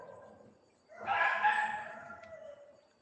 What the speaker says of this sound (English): Then I hear it. Cockerel.